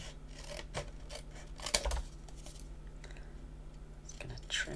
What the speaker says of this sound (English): I'm just going to grab my scissors and do some fussy cutting